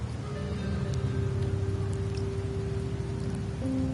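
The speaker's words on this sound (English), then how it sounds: "The rains in Septimont never seem eager to leave this season." Steady rain falls in the Septimont region of a video game, a dense continuous patter heard up close under a low sustained musical drone, with no talking.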